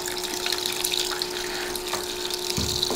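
Water gushes steadily from a tap while clothes are being washed. The flow is loud and continuous, with a faint pump-like hum beneath it and no talking.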